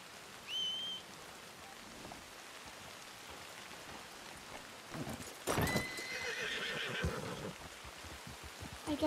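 A horse in the Red Dead Redemption RedM game whinnies early on, then hooves clip-clop under steady rain, with a louder burst of neighing and movement near the middle, all fairly faint and without talk.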